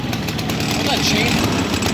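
A go-kart engine runs with the choke on, a loud, steady close-up drone, with people talking over it.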